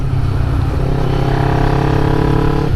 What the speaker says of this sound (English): Now I'm behind two exhaust smelling Harleys again.